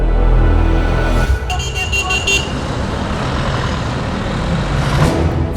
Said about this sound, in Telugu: పద, బస్సు వచ్చేసింది